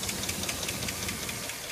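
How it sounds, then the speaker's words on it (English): A Chevy GMC engine with a suspected lifter fault runs steadily, a fast, even ticking riding over the close, constant engine noise. "I believe to be lifter tick."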